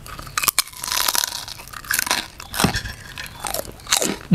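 Close, loud crunching and chewing of crispy pork rinds eaten with a Thai pounded cuttlefish salad, in repeated crisp bites and crackles with no pauses for talk.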